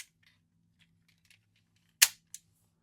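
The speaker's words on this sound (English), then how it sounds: "You press this button to pop the wings out." A toy vehicle's spring-loaded wings pop out at the press of a button: a sharp plastic snap followed by a smaller click, close and clear against a quiet background with faint handling noises.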